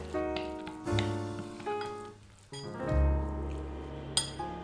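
A spoon clinks and scrapes in a bowl as Thai-style siu mai filling is mixed with garlic paste, with irregular close taps and wet squelching, no talking.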